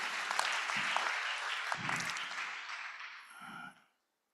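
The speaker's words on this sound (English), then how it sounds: "Please, a round of applause for them." Steady audience applause at a Lagos technical and business meeting, acknowledging the event's sponsor, Ingentia Energies Limited; a dense wash of clapping that holds strong before thinning and stopping abruptly near the end, with no voices.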